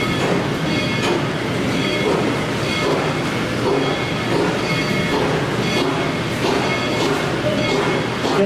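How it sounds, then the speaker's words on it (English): Heritage train rolls past at close range, loud and continuous, with rumbling wheels and rhythmic clatter that fills the whole clip. "I will pause until the train goes by, because it talks louder than I do."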